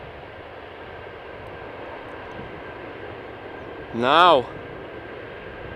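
A 20-year-old Boeing 747-400 at Amsterdam Schiphol Airport, its engines giving a steady, even roar that holds at the same level throughout, with one short spoken word breaking in near the end.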